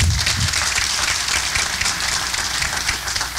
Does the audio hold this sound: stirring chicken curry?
no